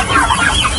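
Rhode Island White chickens clucking on a farm, a short, loud burst of overlapping clucks close by.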